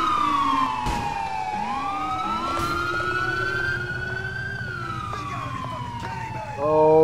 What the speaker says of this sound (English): Please shut the fucking siren off.